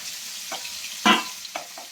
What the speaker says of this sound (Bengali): আর ভাজা হয়ে গেলেই তারপরে আমি তুলে নেবো। আর এদিকে মাছ ভাজা হচ্ছে, মাছটা ভাজা হোক।